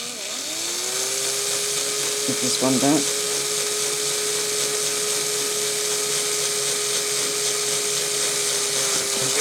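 A small drill bores a hole into a diecast Hot Wheels 1970 Ford Escort RS1600 model, a steady high whine held for several seconds with a brief wobble, while someone speaks briefly.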